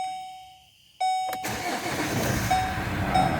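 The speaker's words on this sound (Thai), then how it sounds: "ครับผมโอเค สตาร์ทติดปกติแล้วนะครับ" A Chevrolet Colorado pickup cranks and fires up after a no-start fault is fixed, with a quiet moment before the starter catches and the engine settles into a steady close idle.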